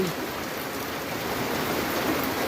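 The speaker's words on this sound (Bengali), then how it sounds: "আজকে মানিকগঞ্জ জেলায় প্রচুর বৃষ্টি হইতেছে" Heavy rain pours steadily over Manikganj district in Bangladesh on a hot day, a dense, even hiss of downpour with no breaks and no voices.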